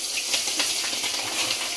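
Green chillies hitting hot oil already used for frying hilsa and seasoned with black cumin seeds, giving a continuous, fairly loud hiss of sizzling with no talk.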